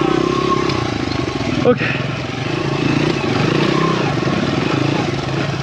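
Engine of a farm motorbike pushed hard on a mountain-top enduro ride, a steady rough drone running throughout with a brief louder burst near the middle, while a person speaks briefly over it.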